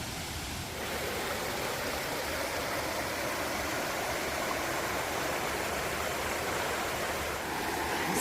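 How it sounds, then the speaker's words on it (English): A waterfall and mountain stream rush beside a campsite on a foothills trail, a steady broadband roar of falling water that stays constant and fairly close throughout, with no voices. "listening to that waterfall all night"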